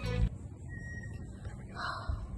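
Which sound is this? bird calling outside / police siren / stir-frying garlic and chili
bird calling outside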